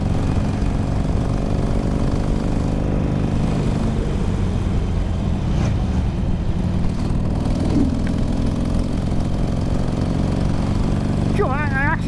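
Harley-Davidson 883 Sportster running in fifth gear at about 40 mph, a steady mid-pitched engine drone with wind rush throughout, with a rider talking over it.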